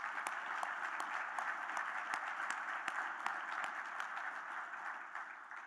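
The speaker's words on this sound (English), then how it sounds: "I'd like to give all those businesses a big round of applause for all their sponsorship" Steady, sustained applause from a conference audience thanking event sponsors, dense clapping at an even level throughout with no talk over it.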